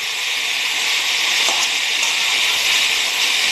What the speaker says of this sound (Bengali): এগুলোর জন্যই জাস্ট একটু জল দেব।